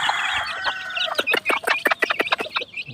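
Pet chicks cheep in quick, high, clustered peeps while being given feed, close and fairly loud, with a softer run of chirping at the start.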